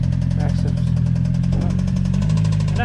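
A Mitsubishi Evo X's 4B11 engine, running low on oil, idles steadily and close by with a deep, even drone and a faint rhythmic pulse throughout.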